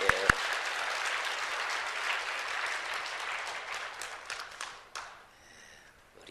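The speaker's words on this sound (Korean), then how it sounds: "우리 같이 다시 한번 박수하겠습니다" A church congregation applauds its choir at a New Year service, a dense wash of many hands clapping that carries steadily, then thins and fades away toward the end.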